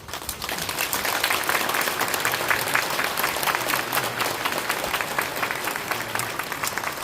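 An assembly hall of a church denomination's 75th general meeting fills with hearty applause endorsing newly nominated officers, a steady wash of clapping from a large crowd lasting several seconds.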